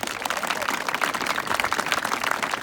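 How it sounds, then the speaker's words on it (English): Scattered audience clapping at an outdoor flag pole dedication ceremony, moderately quiet and uneven, with a few claps standing out over a soft crowd murmur. "Let's give them a round of applause."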